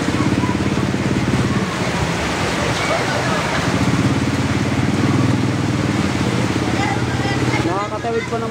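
Motorcycles cross a flooded road in Harmony Hills, Bulacan, their engines droning steadily close by amid splashing water, with voices audible in the background.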